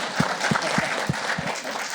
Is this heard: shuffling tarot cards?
no